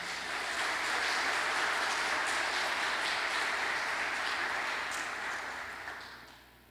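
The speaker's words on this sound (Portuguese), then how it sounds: "Você pode aplaudir ao Senhor?" Church congregation applauding during a sermon, a broad, sustained roar of many hands clapping that swells quickly, holds steady, then tapers off toward the end, with a roomy, distant quality.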